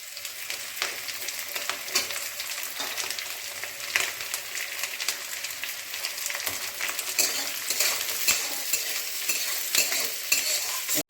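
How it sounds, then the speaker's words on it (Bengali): Garlic and ginger frying in oil in a pan for chicken butter masala, a steady close sizzle with repeated scraping and stirring of the spatula throughout. "রসুনটা নেড়ে চেড়ে আমি আদা দিয়ে দিচ্ছি"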